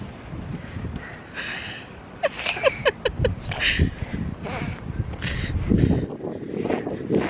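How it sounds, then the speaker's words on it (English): Wind blowing outdoors buffets the microphone in a steady low rumble, with scattered short knocks and faint voices mixed in. "You feel the wind?"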